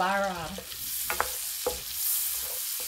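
Chopped onion sizzling as it hits hot olive oil and butter in a pan for mami soup, a close, steady hiss with a few soft stirring knocks, after a brief voice at the start.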